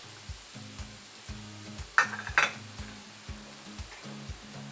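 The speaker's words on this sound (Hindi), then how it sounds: "देखिए ये सैलो फ्राई हो चुका है प्याज। अब हम इसमें लहसुन का पेस्ट, अदरक का पेस्ट," Onion with garlic and ginger paste sizzles and fries in a hot pan, with rhythmic stirring scrapes and a couple of sharper clinks midway; no voices.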